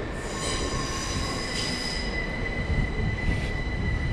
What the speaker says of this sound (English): there's a train coming in at 8:15 to London Bridge